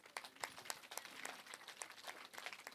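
An audience at a Guru Purnima gathering in Nandavaram claps for a couple, a thin, fairly faint patter of scattered hand claps that runs steadily without cheering.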